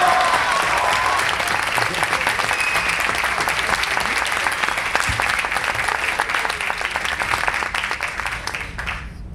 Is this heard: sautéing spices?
no